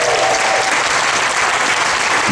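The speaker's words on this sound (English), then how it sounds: "Can we have a round of applause for the sound" Applause from a workshop audience at a mouth music session, a continuous, loud wash of clapping from a crowd with no one speaking.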